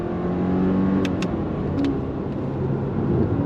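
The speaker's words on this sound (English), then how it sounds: "On throttle. All the way out to red line." A 2024 Subaru Impreza RS in sport mode with simulated gears, its engine revved under full throttle toward redline, a steady droning pull heard from inside the cabin with brief gear-shift-like breaks.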